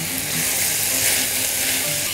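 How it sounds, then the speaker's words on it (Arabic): Sliced beef bacon sautéing with chicken in a hot pan for a chicken casserole, a steady close sizzle and crackle with light stirring, no voices. "وهنا البيف بيكن بتاعي نقطعه كده ونحطه ياخد تشويحه مع الفراخ"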